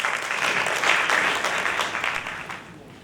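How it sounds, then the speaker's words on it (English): An audience claps warmly to welcome speakers onto a stage at a literary festival session, steady applause swelling slightly then tapering off near the end. "Now, please welcome Jung Lee and Chris Lee."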